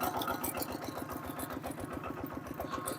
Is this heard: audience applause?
no